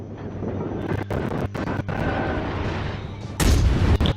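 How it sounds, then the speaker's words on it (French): Warship shells firing in the naval game World of Warships, with a steady engine rumble broken by several sharp booming salvos and a louder blast near the end. "Allez, prenez des obus, c'est ma tournée."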